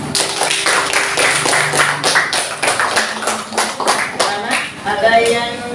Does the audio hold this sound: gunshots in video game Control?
no